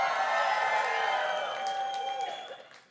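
An audience of Rotary members cheers and whoops, a loud sustained crowd roar that fades away toward the end.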